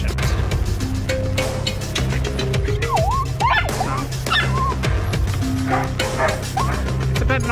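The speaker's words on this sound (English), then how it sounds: "It's a bit noisy in here because there are other dogs and cats." Several dogs bark and yip repeatedly in an echoing vet clinic waiting area, with occasional high whines mixed into the busy, noisy background.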